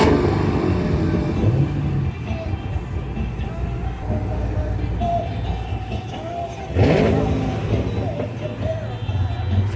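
A car engine fires up and revs at a Mopar car show in Stillwater, Minnesota, a rumbling idle with a sharp surge partway through, heard over crowd background.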